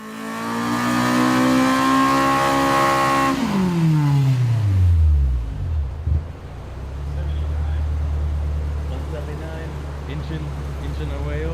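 Honda Civic EK hatchback engine on a dyno, revving high with strong harmonic whine, then sweeping sharply down through the revs and settling into a low, rumbling idle.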